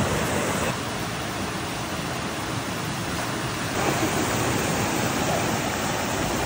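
A riverside cabin's nearby waterfall pours in a steady, loud, unbroken rush of broadband noise, filling the whole stretch with no voices over it.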